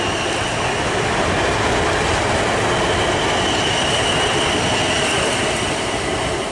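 A Class 455 electric multiple unit pulls away from Southampton Airport Parkway station on the South Western Main Line, producing a loud, steady rumble of wheels and running gear with no let-up as it moves off.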